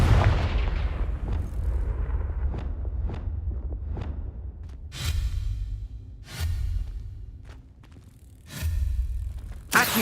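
Confringo blasting-spell explosions from the Hogwarts Legacy video game, a series of punchy booms and crackling bursts spaced a second or so apart over a low rumble, fairly loud with no talking.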